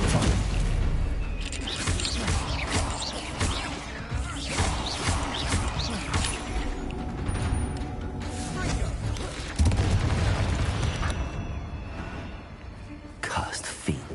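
Spell blasts and explosions from Confringo and Stupefy in a Hogwarts video game battle: dense, loud bursts and booming impacts follow one another rapidly over a continuous busy combat backdrop, with voices calling out at times.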